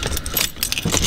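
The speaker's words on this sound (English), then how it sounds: "it's like a proper key that goes in" Metallic keys jingle and scrape close by, a short rattling clatter as a key slides into the ignition of a 2017 Smart ForFour, with a faint low hum of the car interior beneath.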